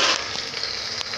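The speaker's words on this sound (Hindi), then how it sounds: "इसमें अब हमने डाल दिए हैं प्याज और हम कुछ टाइम तक इसको अब भूनेंगे प्याज को।" Chopped onions fry in a hot pan with a loud, continuous close sizzle and a couple of soft stirring scrapes, no voice over it.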